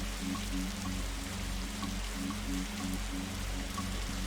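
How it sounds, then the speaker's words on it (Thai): Steady rain in a video game falls and patters continuously, with a low hum and faint rhythmic tones underneath; no voices. "ถ้าคุณรู้สึกว่ายืนอยู่กลางสายฝนแบบนี้มันสนุกนะ"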